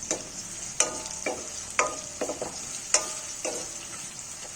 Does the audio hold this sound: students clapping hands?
no